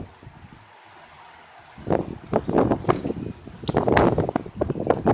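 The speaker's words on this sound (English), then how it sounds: "Yeah, man, it's gotten real windy." After a quiet start, sudden storm wind gusts in North Platte batter the microphone in loud, uneven bursts for the rest of the clip.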